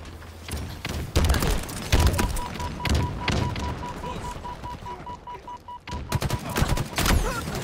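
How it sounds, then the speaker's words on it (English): Gunfire in a Halo Slayer match, a series of sharp cracking shots and thumps at irregular intervals with a steady electronic beep tone running through the middle, plus faint game sounds between shots. "was that a sniper"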